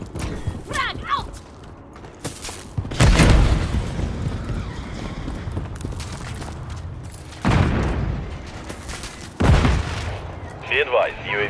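Frag grenade explosions in the Call of Duty video game, several loud booming blasts with crackling debris amid a busy battle mix of gunfire and mechanical clatter, with radio-style voices speaking over it.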